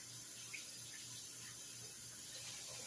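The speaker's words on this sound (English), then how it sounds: "let me wash my hands right quick" Tap water runs steadily into a kitchen sink for hand washing, a faint continuous hiss and patter with no talking.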